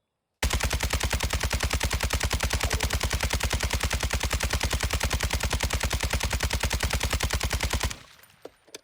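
Sustained full-auto fire from an RPK / Kastov 762 light machine gun shot at a wall in Call of Duty, a steady rapid stream of loud, evenly spaced shots lasting about seven seconds before cutting off abruptly.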